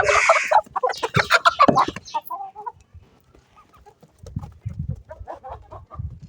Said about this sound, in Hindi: ये देखिए मुर्गियाँ जो ना बाहर आने की कोशिश कर रही हैं